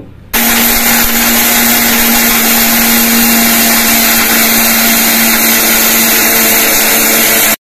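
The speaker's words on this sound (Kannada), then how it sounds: "ಸಾಧಾರಣವಾಗಿ ಮಿಕ್ಸರ್ ಜಾರ್ನಲ್ಲಿ ಪುಡಿ ಮಾಡುವಾಗ ಹುರಿದ ಎಲ್ಲಾ ಮಿಶ್ರಣವನ್ನು ಒಂದೇ ಬಾರಿಗೆ ಪುಡಿ ಮಾಡಲು ಸಾಧ್ಯವಿಲ್ಲ" A mixer grinder runs at full speed, a loud, steady high-pitched whine and rattle of dry roasted rasam and sambar spices being ground, starting abruptly and cutting off.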